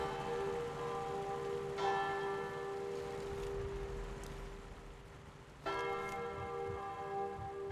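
Church bells ring in the video game Sniper Elite Resistance, two clear, resonant strikes a few seconds apart, each leaving a long humming tone that slowly fades, alone without talk.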